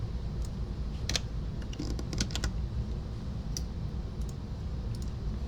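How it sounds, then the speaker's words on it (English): Rapid, steady clicking of keys on a computer keyboard, close and fairly quiet, with scattered sharper taps. "we're going to press the keys"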